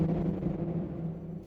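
A sustained, buzzy modular synthesizer tone from a Serge system with Plaits and reverb effects, with a gritty, distorted edge, holding steady at a moderate level with no voices.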